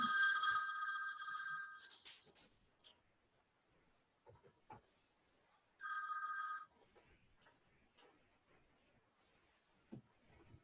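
A telephone rings in a quiet room with two electronic ring bursts: a long one at the start and a shorter one later, separated by faint rustling and handling noises.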